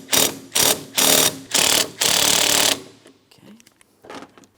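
A power ratchet working a 15mm mounting bolt loose on a 2004-2008 Pontiac Grand Prix 3.8L V6 during A/C condenser replacement, four short loud buzzing bursts, then a longer run, with faint clicks and handling noise after.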